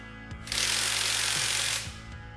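A loud, continuous burst of about one and a half seconds from an impact wrench tightening new Nismo wheel nuts on a Nismo 400R, close up, with a mechanical hum before and after.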